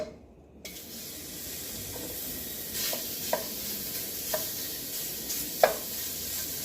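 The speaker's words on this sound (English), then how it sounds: "So we begin our soup by rendering down our salt pork" Salt pork rendering in a hot pot gives a soft steady sizzle that runs throughout, with a few faint clinks of a utensil against the pot, close and gentle.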